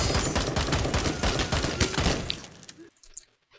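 Rapid gunfire in a prison film scene, shots aimed at cell bars, a dense loud burst of repeated cracks that thins out and fades to near silence at the end.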